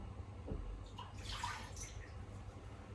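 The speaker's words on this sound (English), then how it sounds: "2/3 cup water, put that in now" Water pours into a small saucepan on a stovetop, a soft splashing gurgle rising briefly over a low steady hum, fairly faint and close, with no voices.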